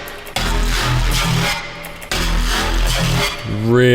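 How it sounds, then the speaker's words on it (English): Synth sound run through a bit crusher placed after saturation and before a trash distortion, giving two gritty, buzzing sustained notes with a crunched, lo-fi top end and a short pitched blip at the end, moderately loud with no talk. "The only thing I'm going to try is adding a bit crusher in the tail end of it here."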